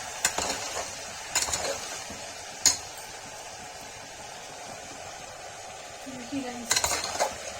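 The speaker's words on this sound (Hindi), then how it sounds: "अच्छे से इसको भून लेंगे" Red chili and turmeric masala sautéing in a pan gives a soft, steady sizzle, broken by several sharp metal clinks and scrapes of a spoon against the pan. There is no talking.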